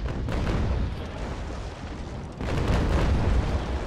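A ship's cannons fire a broadside in the Naval Action sailing game: heavy, sustained rumbling booms that swell again midway and roll on loudly with no talk.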